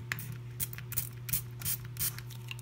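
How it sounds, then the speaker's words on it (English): Spray bottle misting water onto a compressed toilet paper tablet, about five short hissing spritzes in an irregular rhythm, close and fairly soft, with no talking. "A couple little sprays, or you can use just a teaspoon of water."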